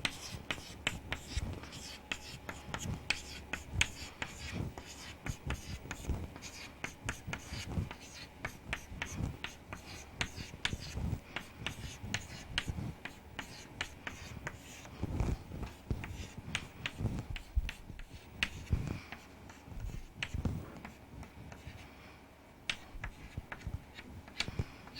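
Writing a truth table of combinations on a board during an electronics lecture, a continuous run of close scratchy strokes and light taps, fairly faint throughout.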